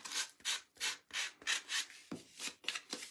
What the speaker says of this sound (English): you can just sand it right out and make those edges nice and smooth